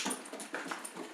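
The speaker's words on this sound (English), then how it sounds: "Can you hear that? That's my dog." A pet dog whimpers softly at home while chasing her tail, faint high whines over a steady background hiss with no voices.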